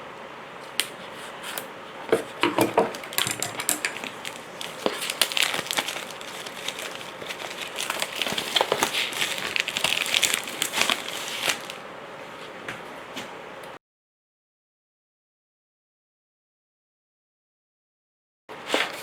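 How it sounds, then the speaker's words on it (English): Dense crinkling and snipping of plastic being cut with scissors, a steady run of crisp rustles for several seconds, then silence. "I'm trying to cut through the plastic."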